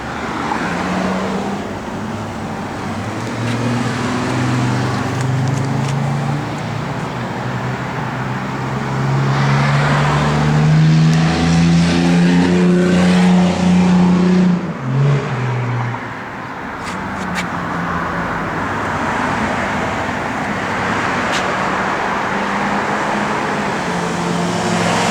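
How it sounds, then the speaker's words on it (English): Engine and dual Flowmaster exhaust of a 1966 Pontiac LeMans convertible, a steady loud low rumble that swells into a deeper roar midway, then settles back to an even idle-like drone, with no talking. "Flowmaster dual exhaust."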